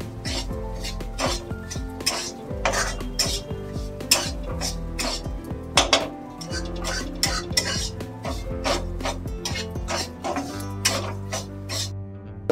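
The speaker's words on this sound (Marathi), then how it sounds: "याच्यामध्ये आता ड्रायफ्रूट पण हे भाजून घेते मी" Dry fruits and lapshi rava (broken wheat) roasting in a pan over a high flame, stirred with a spoon that scrapes and clinks against the metal in a steady run of close, repeated strokes, with no talking.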